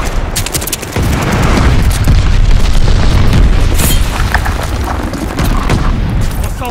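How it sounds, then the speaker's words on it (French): A glide bomb support strike in a war video game sets off loud, sustained rumbling blasts with crackling bursts layered over a heavy low roar, close and continuous. "Bombe planante en soutien."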